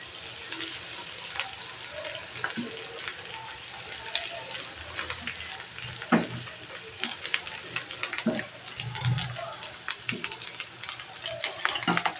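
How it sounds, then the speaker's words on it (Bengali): Egg noodles being stirred as they fry in a pan with scrambled egg for chicken egg pasta, a steady sizzle with scattered scraping clatters of the spatula throughout. "এমনভাবে নাড়তে হবে, একটার সাথে একসাথে যাতে না লেগে যায়"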